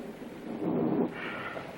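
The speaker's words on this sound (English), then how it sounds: "And it's still raining." Rain falls outside with a low rumble of thunder swelling in the middle, steady and moderately distant, with no talking.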